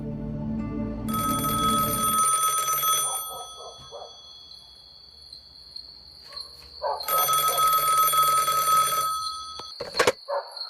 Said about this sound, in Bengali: বেজে উঠল জয়িতার বাড়ির সেই ফোনটা।